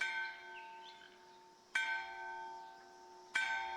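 A large bell in the video game Kentucky Route Zero rings twice, each strike leaving a long, sustained metallic hum that decays slowly, with soft ambience between the strikes.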